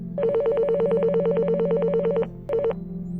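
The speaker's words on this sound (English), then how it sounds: "You waited for a phone call, and that phone call came." A telephone rings with a rapid warbling electronic trill, one long burst followed after a short gap by a brief second burst, loud and close over a low steady hum.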